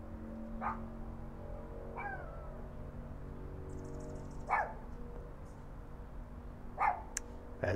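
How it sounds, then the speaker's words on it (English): Dogs bark a few times at a distance, short sharp yelps spaced a couple of seconds apart over a quiet indoor background hum. "Dogs are barking."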